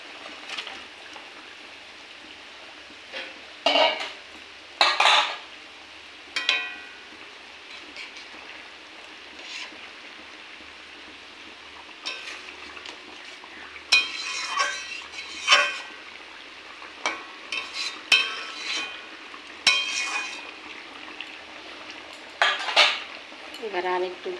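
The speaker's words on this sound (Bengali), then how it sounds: "এবার মাছের পিসগুলো কড়াইতে দিয়ে দেবো" Fish pieces going into a hot wok with cooked potatoes and vegetables, with repeated metal clatters and scrapes of a spatula against the pan over a soft, steady sizzle, in bursts with short pauses.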